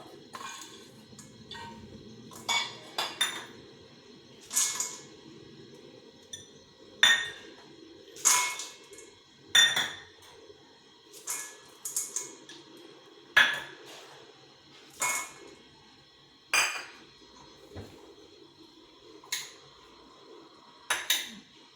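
Fried dry fruits dropped a few at a time into a mixing bowl, giving sharp, separate clinks and light clatters at an uneven pace, close by with no talking.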